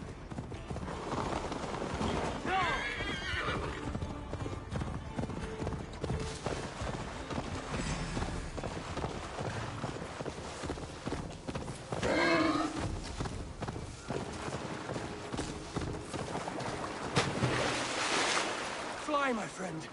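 Horse hooves clip-clop at a gallop with a brief neigh in Assassin's Creed Valhalla, set under game music and spoken dialogue throughout.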